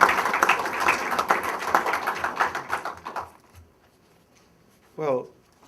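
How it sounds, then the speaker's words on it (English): Audience applause at a book release event welcoming a speaker: a burst of many hands clapping that fades out after about three seconds, then near silence before a short voice is heard. "Please join me in giving a round of applause to our another friend who represents families."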